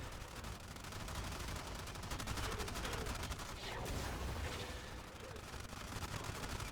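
Dense, continuous enemy gunfire in the video game Warframe, rapid overlapping automatic shots filling the whole stretch at steady loudness, with no gaps and no talking.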